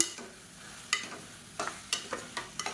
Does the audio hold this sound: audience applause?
no